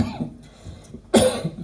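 A single short, sharp cough bursts out after a moment of quiet room sound.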